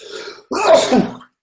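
A single person sneezes up close, a short breathy intake followed by a sharp, loud burst that trails off quickly, with nothing else heard around it.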